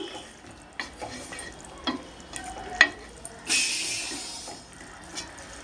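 Scraping stir strokes in a pan of dried prawn and moong dal fritter curry with a little salt added, close and intermittent, with a soft sizzle swelling briefly midway.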